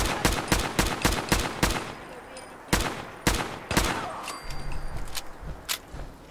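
Assault rifle gunfire from Fallout 4 on PC, a rapid burst of sharp shots followed by scattered single cracks and bursts, loud and close over faint game ambience.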